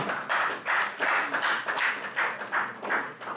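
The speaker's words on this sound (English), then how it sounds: "Good news, I thought you would clap" Guests at a real estate book launch dinner clap together in a steady rhythm, about two to three beats a second, forming a string of even, moderately loud bursts with no talking over them.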